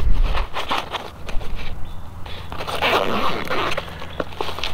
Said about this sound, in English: Zipper pocket.